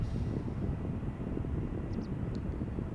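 Narrow-body airliners rolling toward the runway threshold at Amsterdam Schiphol Airport, heard as a steady, distant low engine rumble with wind-like broadband noise and no talk.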